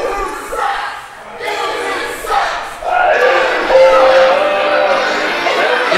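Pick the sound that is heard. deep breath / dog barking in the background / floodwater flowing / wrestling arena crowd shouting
wrestling arena crowd shouting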